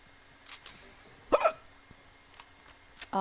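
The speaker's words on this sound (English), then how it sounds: "I still get the fucking hiccups" A man hiccups once sharply, then a fainter second hiccup follows, close to the mic over quiet room noise and a few soft clicks.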